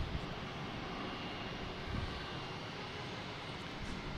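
A Brussels Airlines passenger plane flies over Boston Logan Airport, its steady engine roar droning on at a moderate distance with no talk over it.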